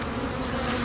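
Honey bees swarm around a Flow Hive being set up with starter strips, a close and steady insect buzz that drones evenly through the whole brief moment with no voices.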